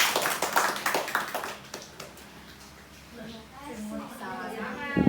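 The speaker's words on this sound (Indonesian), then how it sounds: "Kita beri aplaus untuk Ibu Ayu." An audience claps briefly in a health-education session on pregnancy checkups, a short burst of scattered applause that fades, followed by a speaker's voice.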